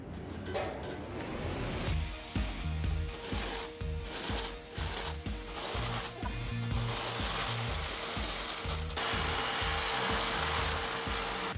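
A powerful drill with a large bit grinds steadily through hard material while building a fireplace, its ratcheting, clattering rumble loud and continuous for several seconds before settling into a steady whir.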